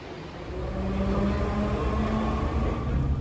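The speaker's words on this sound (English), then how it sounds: "There's literally barely anyone on the train now." Inside a moving train, a steady low rumble and rolling hum fills the carriage, with a faint tonal whine, continuous and fairly loud throughout.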